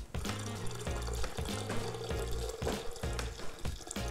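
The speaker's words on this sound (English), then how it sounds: "Pour it real slow, it's very hot." Hot coffee with butter and MCT oil is poured slowly into an all-glass-and-steel blender, giving a close, steady liquid splashing and gurgling stream for a few seconds.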